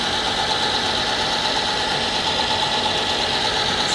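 A metal lathe's spindle turns at about 435 RPM, a steady close mechanical drone and whine that holds constant throughout with no talking.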